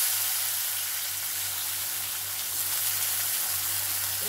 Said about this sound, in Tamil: வெங்காயம், பச்சை மிளகாய், நம்ம நல்லா வதக்கி எடுத்துடலாம்.